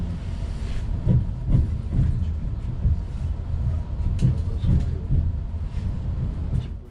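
Passenger train from Kyiv to Odesa in Ukraine rolling along, a steady low rumble inside the carriage with rhythmic clickety-clack wheel beats over the rail joints, loud and continuous, no one talking.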